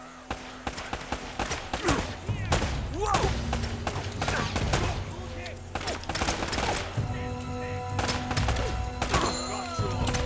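Gunfire from the video game Uncharted: Drake's Fortune, rapid shots and impacts scattered throughout under game music and someone talking.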